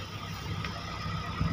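Suzuki Alto VXR engine idling in the rain, a faint, steady low rumble with a slightly louder stir near the end, heard alone.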